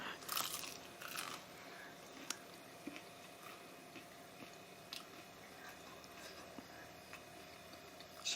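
Crisp fried pastry crunches in a few bites near the start, followed by quieter chewing and small clicks, close up and faint.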